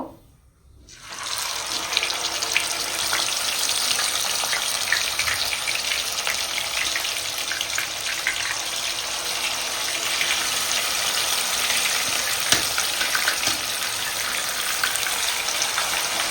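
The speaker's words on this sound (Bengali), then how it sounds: "এবার আমি মাছটা ভেজে নেব।" Katla fish pieces hit hot oil and set off a loud, dense, continuous sizzle that rises within the first second and holds steady and close throughout.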